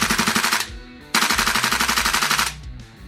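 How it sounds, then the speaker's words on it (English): An APFG MCX gas blowback airsoft rifle runs on HPA in full auto: two loud, rapid bursts of sharp, evenly spaced cracks with mechanical clatter, separated by a brief gap, the second burst longer. "Let's do some full auto."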